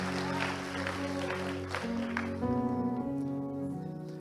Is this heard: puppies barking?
no